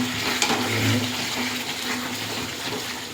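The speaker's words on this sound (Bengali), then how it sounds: "একটু জল দেবো, জলটা গরম করেছি।" Heated water is poured into a pot of simmering mutton curry, giving a close, rushing splash that swells early and then settles into a steady hiss and bubble.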